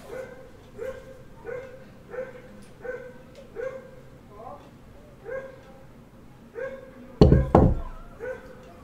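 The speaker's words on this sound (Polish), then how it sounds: "Psy szczekają." Dogs bark over and over in a steady, repeated rhythm at moderate loudness, with a sharp thump breaking in near the end.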